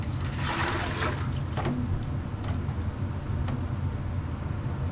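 Water gushes from the drain valve of a hot water heater into a drip pan, a steady, close, continuous rush with faint splashing and no talk.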